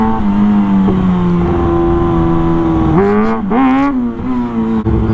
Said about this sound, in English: I'm sure the bike's gonna be either running great or running weird now that it's back down to normal altitude